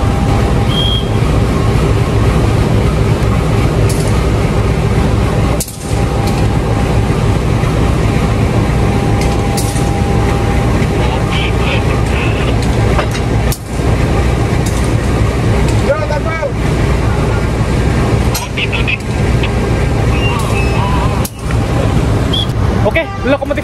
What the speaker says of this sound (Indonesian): Nah ini proses gandeng.